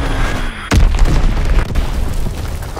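A Fritz X bomb explodes in a video game battle with a sudden loud boom, which then fades into a rumbling tail. Another duller thump follows about a second later.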